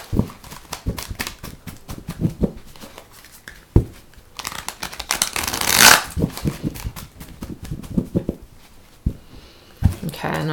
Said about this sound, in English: These are a little bit difficult to shuffle.